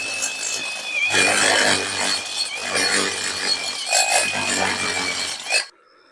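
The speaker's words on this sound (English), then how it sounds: "Get that hole drilled as well." A hole is drilled through a wooden gate post outdoors, heard as a close, harsh, grinding whine in several bursts with short pauses between them, before it stops abruptly.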